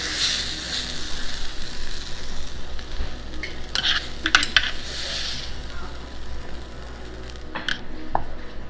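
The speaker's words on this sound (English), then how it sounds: "You just put an oyster, chopped it up, and added it to the mushroom rice." Chopped oyster and mushroom rice sizzle and fry in a pan while being stirred, a steady close hiss broken by a few sharp utensil scrapes and clinks.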